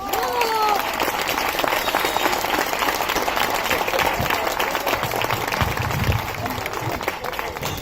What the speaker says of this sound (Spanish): Aquí ya recibimos con este fuerte aplauso.